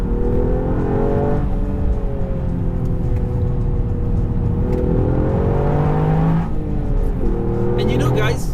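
A manual Toyota GR Yaris accelerates, its engine tone rising and holding through gears with a shift change, up close inside the car while someone talks over the engine.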